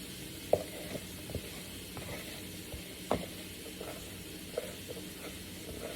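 Steak sizzles in a frying pan with a steady close hiss, broken by a few sharp pops and crackles.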